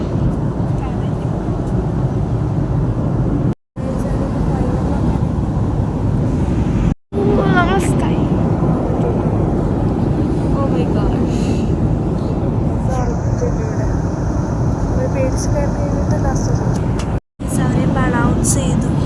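Cabin noise aboard a passenger flight to Bangkok: a constant loud broadband engine and air rush that fills the whole clip, with people talking over it and a few brief cuts.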